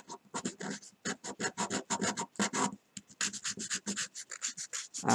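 Sandpaper scrapes a hand-carved wooden fishing lure in quick, rhythmic back-and-forth strokes, each rasp short and close, with brief pauses between bursts.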